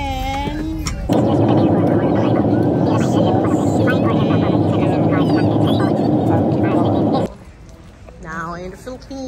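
Steady roar of an airplane cabin in flight on a trip to Singapore, a dense broadband engine and air rush holding for about six seconds before dropping away, with brief voices at the start and end.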